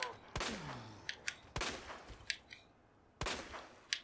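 Gunfire in the video game Resident Evil 2, three loud sharp shots spaced about a second and a half apart, each with a short ringing tail and lighter clicks between.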